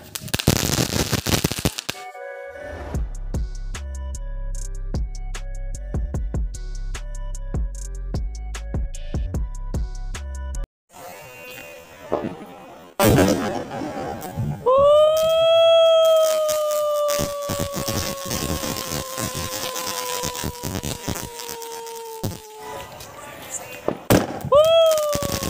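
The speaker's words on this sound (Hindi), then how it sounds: "अब पापा जलाने जा रहे हैं स्काई शॉट" Sky shot fireworks on a Diwali rooftop crackle and pop in rapid bursts. Whistling rockets then climb with long falling shrieks, while loud people talk close by.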